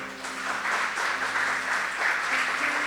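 A church congregation gives a loud, sustained round of applause that holds steady for about three seconds, with a faint hum of voices and music beneath the dense clapping.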